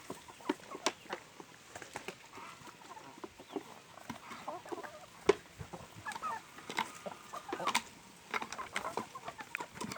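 Chickens in a home backyard aviary cluck and squawk busily while being fed corn, with a mix of close and nearer calls, pecking and rustling, and occasional voices of people talking.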